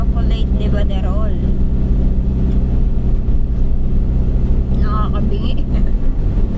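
A loud motor engine runs close by, a steady low droning rumble throughout, with people talking over it.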